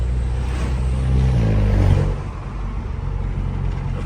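Turbocharged Volkswagen Jetta engine revving loudly up close, a deep rumble climbing to a peak and then dropping back to a lower idle-like drone, alone with no talk.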